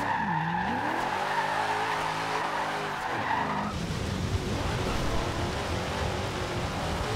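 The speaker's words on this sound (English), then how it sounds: "why I chose to come back to Forza Horizon 2 is you have the docks you can drift in" Tires skid and squeal continuously as a Camaro IROC-Z drifts in Forza Horizon 2, with the V8 engine revving and shifting in pitch beneath, loud and close throughout.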